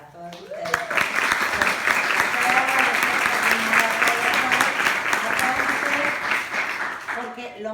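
Audience applause at a business event, a full, steady round of clapping that swells and holds, while a voice talks over it and a few musical tones sound at the start and end.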